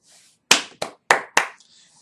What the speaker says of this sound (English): that deserved a clap break